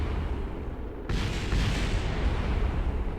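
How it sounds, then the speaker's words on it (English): An overheating craft blows up in Kerbal Space Program. A low rumble suddenly gives way to a loud, broad explosive roar that keeps crackling and rolling on afterwards. "Something exploded."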